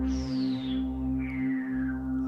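SynthScaper synthesizer playing a sustained harmonic tone with effect 1 modulation, a high sweeping overtone gliding downward twice over a steady low drone as the control is swiped up and down.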